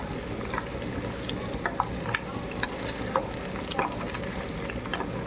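Fried ingredients are stirred into a simmering curry in a pan, giving soft, irregular scrapes and clinks over a low, continuous sizzle, close and fairly quiet with no talking.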